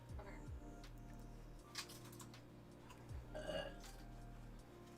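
Two low, drawn-out burps about three seconds apart, faint and close, with light clicking sounds between them.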